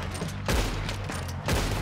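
Gunfire in the online Western game Red Dead Online, with loud, close shots landing at about half-second and one-second intervals over a steady low rumble of game ambience.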